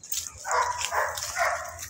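A K9 dog gives three loud, close barks or yelps in quick succession, evenly spaced and alone without talk.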